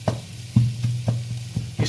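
A spatula repeatedly chops and presses fried rice in a hot pan, giving a series of sharp clacks and soft squishing thumps over a steady sizzle, close and loud with no talking.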